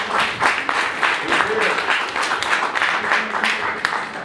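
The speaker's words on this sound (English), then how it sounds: "let's give another round of applause for James Brown" An audience at a business group event gives a round of applause for a speaker, a dense, continuous wash of clapping mixed with cheering voices and crowd noise throughout.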